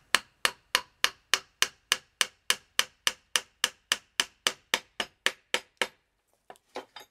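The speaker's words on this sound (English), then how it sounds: "so you can nail it there" Hammer blows drive nails into wood while building a simple organizer held with a C-clamp, about twenty sharp, evenly spaced strikes in a steady rhythm, close and loud, followed by a pause and a few lighter taps.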